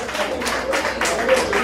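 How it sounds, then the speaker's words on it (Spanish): Applause for Guillermo at a 50th birthday party, a steady patter of hand claps from the gathered guests, fairly close and moderately loud, with some crowd murmur mixed in. "entonces los aplausos para Guillermo"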